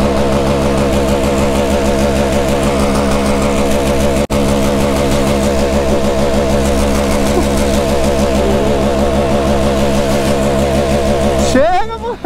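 A Honda Africa Twin motorcycle engine runs loud and close in a steady, even drone with a sustained throttle, then cuts to a brief change at the very end.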